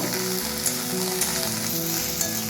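Okra and chopped onion fry in a pan, giving a loud, continuous, even sizzle with faint crackles and no voices.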